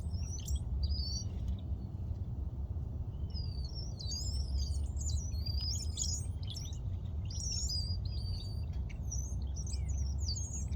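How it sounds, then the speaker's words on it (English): Small birds chirp and tweet repeatedly in short, high bursts throughout, moderately near, over a steady low rumble of outdoor background noise. "You hear the little birds."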